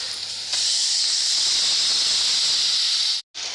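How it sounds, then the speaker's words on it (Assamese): Meat fries in hot oil with onion and chilli, giving a loud, steady sizzling hiss that cuts off briefly near the end and then resumes, with no talking. "মাংসখিনি অকণমান ৰঙাকৈ ভাজি ল'লোঁ"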